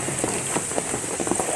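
Heavy rain falls on a garden of newly planted corn and coconut trees, a dense, steady patter of close drops with no voices.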